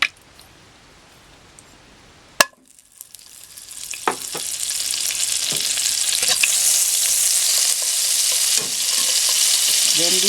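Butter hits a pan with a little cooking oil and breaks into a loud, rising sizzle that holds steady, after a sharp clink at the start.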